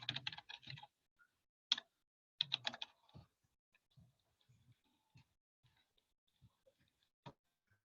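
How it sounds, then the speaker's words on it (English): Typing on a computer keyboard: bursts of rapid key clicks, then sparser single taps and pauses, close and fairly quiet with no other sound. "So I am going to type up my email."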